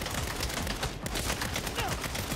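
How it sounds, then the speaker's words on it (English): Rapid explosive grenade-launcher fire in Saints Row, a dense, loud barrage of overlapping blasts and bursts filling the whole stretch with no pause. "Oh, it's a grenade launcher."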